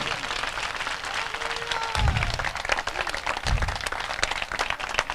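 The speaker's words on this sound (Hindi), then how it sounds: "आपकी ताली छोटी है," Loud, sustained applause from a church congregation during a sermon, steady dense clapping throughout with a couple of heavier swells, and a few voices faintly mixed in.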